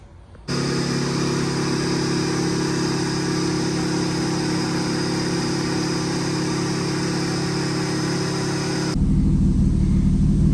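Nissan S14 240SX with a swapped 2JZ engine, heard as a steady, loud, droning engine hum held at a constant pitch, then a sudden shift to a deeper, rougher rumble near the end, with no talk.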